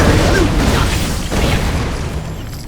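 Rocket explosions from a Bandit launcher in Borderlands 2, loud booming blasts merging into a dense rumbling roar that tails off slightly.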